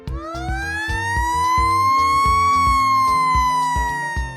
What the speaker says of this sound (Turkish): Bu bir itfaiye arabası. İtfaiye arabası.